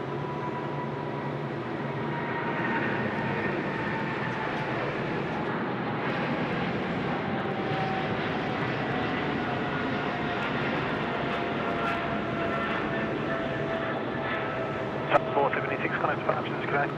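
A Thai Airways airliner rolls for take-off on runway 34 left at Sydney Airport, a continuous broad engine roar heard from a distance, with a faint whining tone sliding slowly downward and a few clicks near the end.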